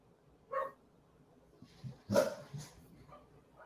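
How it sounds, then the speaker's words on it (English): A few dog barks and yips, fairly faint and spaced out, come from a little way off against a quiet indoor room, with a short burst of vocal sound in the middle. "My dogs are barking."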